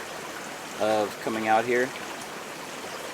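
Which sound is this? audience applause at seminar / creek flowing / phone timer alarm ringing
creek flowing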